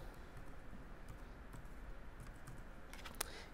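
A library card number is typed on a computer keyboard in a quiet room, giving soft, quick keystrokes over steady background hiss, with a sharper click near the end.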